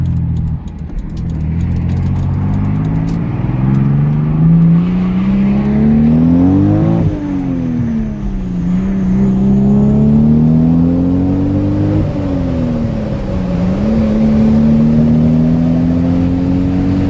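A 1994 Toyota Supra with a twin turbo engine and six-speed manual accelerates hard, its engine note rising loudly through several gears with brief dips at each shift, heard close from inside the car.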